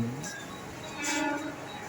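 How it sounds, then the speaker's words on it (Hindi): A 12-car Mumbai Harbour line local train bound for Panvel stands at platform 1 of Cotton Green station, its rumble mixed with tonal squeals and a brief whistle-like burst, under faint station noise. "प्लॅटफॉर्म क्रमांक 1 पर आलेली लोकल 9:43 की हार्बर लाइन से पनवेल जाने वाली 12 डिब्बों की लोकल"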